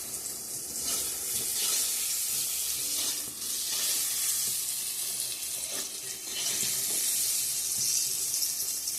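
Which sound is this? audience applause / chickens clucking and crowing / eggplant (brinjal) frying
eggplant (brinjal) frying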